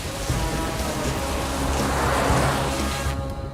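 Heavy rain in a film scene, a dense, steady hiss of downpour with a low rumble beneath, constant and loud throughout and dropping off slightly at the very end, with no voices.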